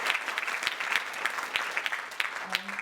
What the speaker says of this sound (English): So I think another round of applause